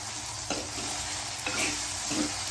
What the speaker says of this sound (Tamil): இது ஒரு கொஞ்ச நேரம் வேகட்டும் வந்து சொரக்காய் பாதி அளவு வெந்துருச்சுங்க